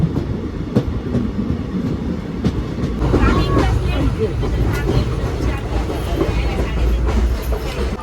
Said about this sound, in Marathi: बरोबर साडेचार वाजता गाडी निघालेली आहे ठाणे रेल्वे स्टेशनवरून